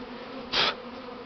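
Angry Buckfast honey bees from a swarm give a steady background hum, and one bee zips close past in a sharp, brief buzz.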